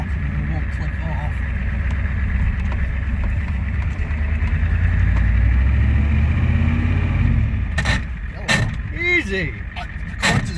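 A 1988 Ford truck with an IDI diesel engine and a muffler idles as a steady low rumble, close and continuous, with a brief voice and a few knocks near the end.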